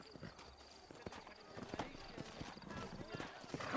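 Rhythmic clip-clop of horses trotting at a steady pace in the video game Red Dead Redemption, with voices talking over the hoofbeats.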